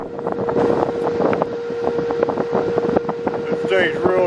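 A wind turbine runs at a wind farm in Milford, Utah: a loud steady drone with a constant mechanical tone and gusty wind rumble, close by, with people talking over it.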